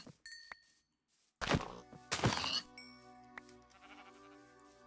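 Sheep in the Minecraft modpack GTNH bleat in short bursts, two loud nearby bleats close together amid soft dings, clicks and thumps of game effects, with no talking.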